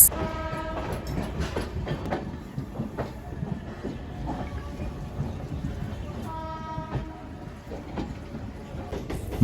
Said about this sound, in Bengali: অমৃত ভারত এক্সপ্রেস তার যাত্রা শুরু করল মালদা টাউন স্টেশন থেকে